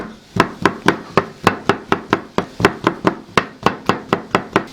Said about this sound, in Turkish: Domatesleri de yine biber gibi küçük kuşbaşı doğrayacağız.